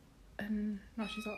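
A young pet kitten gives two short, high meows from nearby, separated by a brief pause, while a person speaks softly over them.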